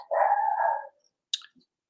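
A dog gives one loud, drawn-out bark close by, and a short sharp yelp follows a moment later. No other sounds are present.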